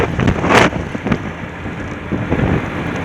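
Strong wind buffeting the microphone outdoors, a loud continuous roar with sharp gusts, one especially hard blast early on, and no voices.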